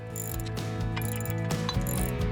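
A ratchet wrench removes bolts with a steady, rapid, close-up clicking of the pawl that runs without pause for a couple of seconds, with no voices.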